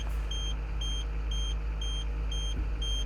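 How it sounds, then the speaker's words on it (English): High-pitched electronic beeps from a Komatsu excavator quick coupler, a steady series of short, evenly spaced tones sounding over a low, constant engine rumble. "You're going to hear some higher frequency beeps"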